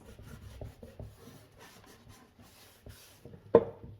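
Wood stain is rubbed onto a wooden box by hand, giving soft, intermittent scrubbing strokes at close range, quiet overall, ending in one sharper knock.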